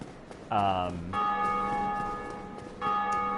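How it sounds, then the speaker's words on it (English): Bell ringing in the Dark Souls video game, a sustained resonant toll with long ringing overtones that fades, then strikes again near the end, fairly loud with faint game ambience beneath. "the bell ringing means someone else has completed the Bell Gargoyles"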